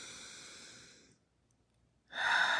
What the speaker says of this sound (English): Breathe in with me.